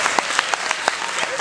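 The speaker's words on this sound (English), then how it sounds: "Round of applause for this man." A convention audience at a Terminator anniversary panel gives a brief round of applause for a man called up from the back, scattered claps with a few sharper individual hits.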